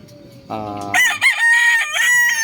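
A fighting cock crows loudly and close by, one long full cock-a-doodle-doo with a rising start and a drawn-out, wavering end.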